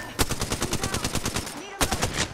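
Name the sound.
gunfire in the Apex Legends video game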